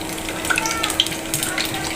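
Lentil fritters dropped into hot oil, a constant close bubbling sizzle with small pops and crackles over two seconds, no voices.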